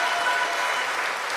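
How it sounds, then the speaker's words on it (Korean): A crowd at a Democratic Party gathering at a Chungnam education training institute applauds, with dense, steady clapping filling the whole short moment at an even loudness. "박수 보내주시기 바랍니다."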